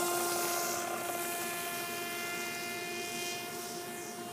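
An Aerobird radio-controlled model airplane in flight gives off a steady, close, high-pitched motor whine and buzz that holds level throughout, with no talk over it.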